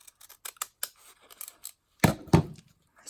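Scissors snipping paper for an altered book collage, a quick series of sharp close cuts followed by two louder, heavier snips.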